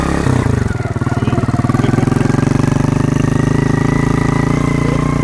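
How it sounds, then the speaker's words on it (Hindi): A motorcycle engine drones steadily as the bike is ridden past green crop fields on a sunny day, a loud, close, continuous throbbing hum with even rhythm and no speech. "हम हैं मोटरसाइकिल पर"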